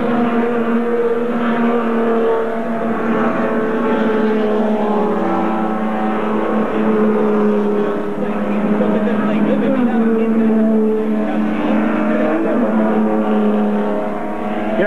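Ford Falcon touring race cars at a 1993 regional race at Pilar, engines droning and rising and falling in pitch as they pass at a distance, with commentators talking throughout.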